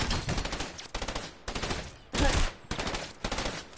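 Rapid bursts of submachine gun fire from a video game, several short loud volleys in quick succession with brief gaps between them, no voices.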